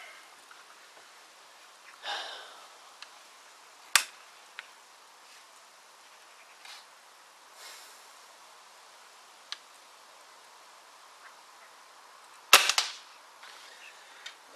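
Cheap rifle fired at a can at 35 yards on a windy day: a few sharp, isolated shots spaced seconds apart, with bursts of wind gusting between them and no speech.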